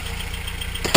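A 1993 Toyota pickup with a 22RE engine idles through its stock muffler and small exhaust pipe, a close, low, steady rumble that ends with a short louder burst.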